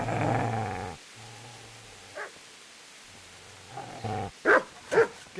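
A dog in the medieval game Kingdom Come: Deliverance growls low and steadily, then breaks into a few sharp, close barks near the end, with no talking.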